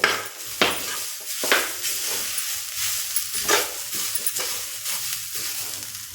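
Grated coconut sautés in a pan for a sweet modak filling, giving a steady soft sizzle and hiss. A spatula stirs and scrapes through it every second or so, close by.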